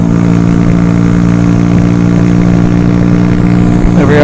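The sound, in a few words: motorbike engine at full throttle in winter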